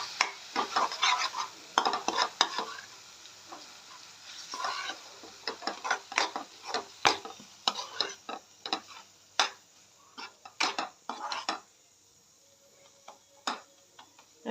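Roasted peanut powder for amti is stirred in a pan, with a spoon scraping and clinking repeatedly at close range over a faint sizzle, pausing briefly toward the end.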